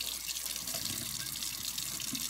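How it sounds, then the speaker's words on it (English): A tap runs steadily while boots are rinsed under it, giving a continuous close splashing water sound with no talking. "Let's just give them a quick rinse here, shall we?"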